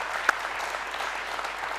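A television studio audience on a talk show claps in a short, dense burst of applause, with one sharp clap standing out near the start and the rest an even crackle of many hands.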